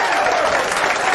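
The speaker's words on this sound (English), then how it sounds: "Give yourselves a round of applause" A crowd applauds at a public dialogue event, with brisk, dense clapping that is loud and continuous over a brief moment.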